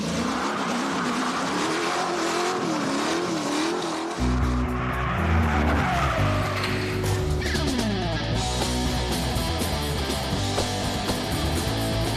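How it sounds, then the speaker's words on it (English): A 1974 AMC Javelin Trans Am street racer launches hard, its engine roaring loud and close as the tires squeal and skid, the pitch shifting as it accelerates, with music-like tonal layers rising partway through. "our Javelin gets launched"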